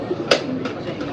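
Homing pigeons loaded for a training release give soft, brief coos amid a busy, noisy background, with a sharp knock near the start.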